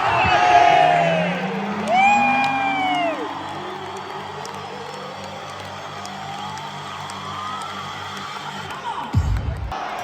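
Hockey crowd at the Xcel Energy Center arena cheering and whooping loudly, swelling near the start and then settling into a sustained roar, with whistle-like tones and music rising through it.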